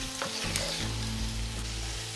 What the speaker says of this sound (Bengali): যেহেতু আলুটা সিদ্ধ হয়ে গিয়েছে সেজন্য খুব বেশি নাড়াচাড়া করব না, হালকা একটু নাড়াচাড়া করে নেওয়ার পরেই এখানে দিয়ে দেব